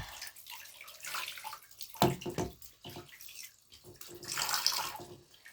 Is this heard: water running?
yes